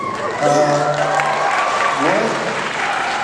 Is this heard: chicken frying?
no